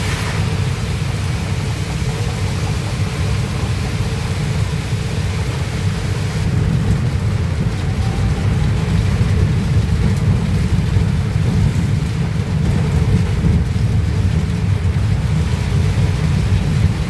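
Heavy monsoon downpour in Akola roars loud and steady, a dense low rumbling wash that may carry thunder, with no speech.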